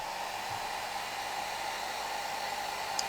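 A hair dryer blows in a steady, loud, unbroken whoosh of air while drying a painting, with no talking.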